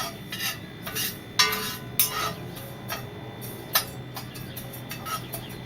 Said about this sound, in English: So give them a good stir.